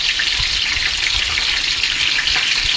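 Chicken pieces frying in hot oil, a dense, loud and steady crackling sizzle that holds evenly throughout, close by and alone, with no talking.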